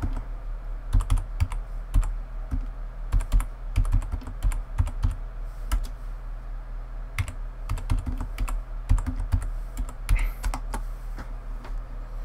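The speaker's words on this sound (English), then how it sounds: "I will type for you." Fast, steady clicking of computer keyboard keys in irregular bursts, close and clear over a low electrical hum, with no talking.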